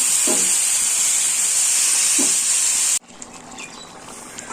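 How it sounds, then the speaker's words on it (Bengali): Hot water poured into a pan of sautéed jackfruit gives a loud, steady steaming hiss for about three seconds, then drops to a quieter simmering sizzle with faint bird calls in the background. "এবার কষানো হয়ে গেলে ইঁচড় কষানো, এবার গরম জল দিয়ে দেবো।"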